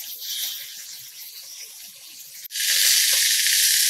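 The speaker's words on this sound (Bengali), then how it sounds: "এবার মশলার সঙ্গে আলুগুলো নেড়ে চেড়ে একটু ভেজে নেব।" Potatoes fry with spices in a pan, giving a soft steady hiss that abruptly swells into a much louder, brighter sizzle partway through.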